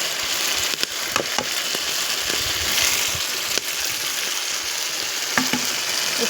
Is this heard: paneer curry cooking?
yes